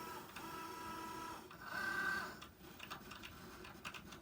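Electronic cutting machine recutting a paper card design, a quiet mechanical whir with a brief higher tone near the middle and faint ticking carriage movements.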